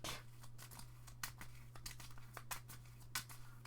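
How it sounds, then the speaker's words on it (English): A deck of Yu-Gi-Oh trading cards is shuffled, giving quick papery riffles and flicks in short bursts, close but quiet over a steady low electrical hum. "Deck gets shuffled again"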